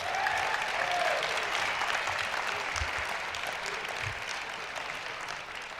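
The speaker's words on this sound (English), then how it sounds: "Let's give them a round of applause, everybody." An audience at a university address applauds the UIC Pep Band, a steady, even wash of clapping from a large room with faint crowd murmur underneath.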